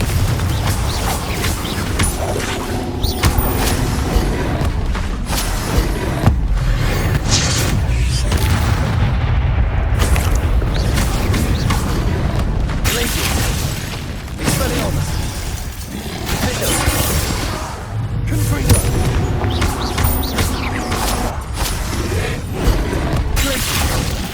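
Repeated blasting spell explosions in the Hogwarts Legacy video game, loud booming bursts and crashing impacts over a continuous dense battle soundscape, with voices shouting spell names throughout.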